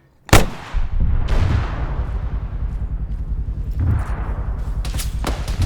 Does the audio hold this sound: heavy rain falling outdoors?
no